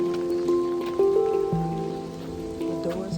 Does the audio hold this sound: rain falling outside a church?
yes